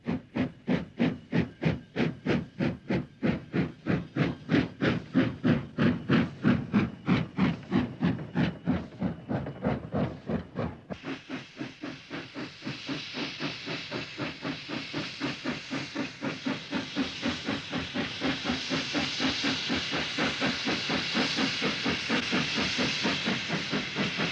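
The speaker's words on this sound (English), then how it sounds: "a rather grimy austerity leaves with an empty train for Graig Merthyr Colliery" A grimy austerity steam locomotive hauling an empty colliery train chuffs in a strong, steady exhaust beat close by, with hissing steam building into a continuous rush as the train works round a steep bend.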